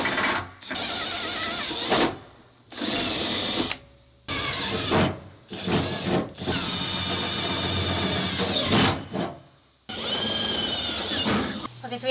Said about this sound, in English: we have all of our 3/16 holes drilled out for our pop rivets